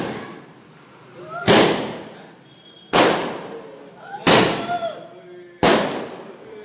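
Diwali firecracker shots go off four times at roughly even intervals of about a second and a half, each a loud, sharp burst that decays over a moment, with faint household voices and whistles between blasts.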